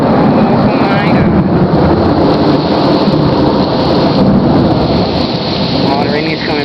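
Heavy rain pours hard and loud during a thunderstorm under a tornado warning in Chicago, Illinois, on August 4, 2008, a dense, unbroken roar with rumbling underneath.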